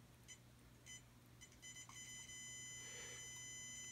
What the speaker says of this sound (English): And that beep you hear means continuity